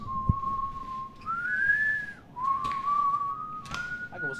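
A single clear whistled tune in the game Resident Evil 6, held notes sliding up and down, sounding close and alone with a few small clicks.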